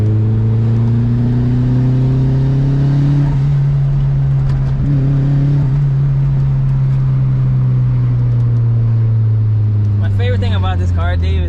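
A Mazda Miata pulling hard in third gear, its engine note a loud, steady drone that climbs then eases near the end, heard from inside the car with a voice briefly audible over it.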